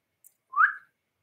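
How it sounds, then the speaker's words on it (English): A single short whistle, one rising-and-falling tone lasting about a third of a second, sounds alone and fairly clear against near silence during a 2021 Bowman Blaster baseball card box break. "Did you just whistle at me?"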